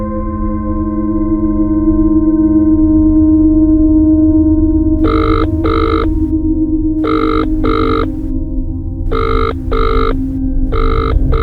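A phone rings unanswered in pairs of short electronic tones repeating about every two seconds, set over a steady low humming, throbbing drone with no talking.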